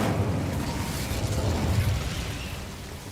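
A fire spell burns in a video game, a steady roaring whoosh of flame with low rumbling bursts running the whole time and easing off slightly at the end.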